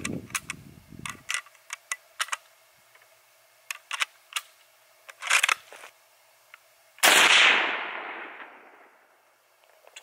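A single loud report from an 8mm Mauser Car 98A rifle firing Sellier and Bellot 196-grain FMJ at an outdoor range rings out and decays over a couple of seconds, preceded by a series of small mechanical clicks and rattles.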